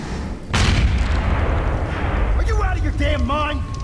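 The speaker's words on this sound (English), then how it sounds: "Explosion locked the door!" Explosion in the video game Aliens Colonial Marines, a sudden loud blast that rolls into a sustained rumbling roar, with game voices and music tones layered on top toward the end.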